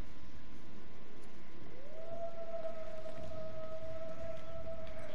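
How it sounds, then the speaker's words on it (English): A long, rising tonal wolf howl in the video game Until Dawn that settles into a sustained wavering note, distant and eerie over a low background rumble, with no talking. "you can hear the wolves"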